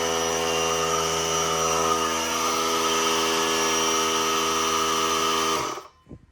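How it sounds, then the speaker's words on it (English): An air compressor in a workshop runs with a loud, steady motor hum rich in tonal whine, holding constant for several seconds before abruptly shutting off into near silence. "Been waiting so long for that compressor to kick on"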